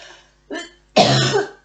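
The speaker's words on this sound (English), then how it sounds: "Still struggling with that cough." A few rough coughs close up: a faint one, a short bark, then a longer, heavier cough.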